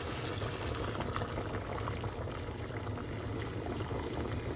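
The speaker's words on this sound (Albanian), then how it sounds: "e mbushim tenxherën me ujë" Water filling a cooking pot, a steady, even rush of liquid that runs unbroken for several seconds at moderate level with no voices.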